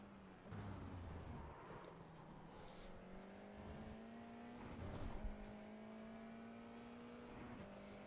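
A race car in iRacing takes a tightening right-hand corner, its engine droning steadily with a rising pitch as it shifts into third gear, faint tire noise mixed in.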